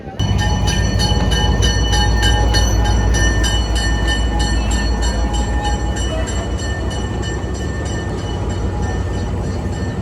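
A train rumbles loudly and steadily close by, with a continuous roar of rolling wheels and rhythmic clatter as it pulls in, at a station in the Peruvian Andes on the route to Machu Picchu.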